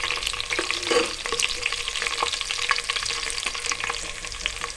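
Onions frying in a pan for dal mash khichdi give a steady, dense sizzle with a few stirring scrapes, close and loud, with no talking.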